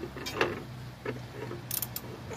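A socket wrench turns the belt tensioner pulley on a Jeep Wrangler 3.8, giving a few close, quiet ratcheting clicks and mechanical knocks over a couple of seconds.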